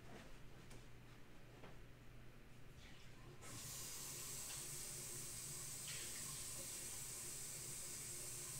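A tap runs for fresh water for watercolor painting, starting partway through as a bright, steady hiss and splash that continues loudly to the end after quieter room sounds.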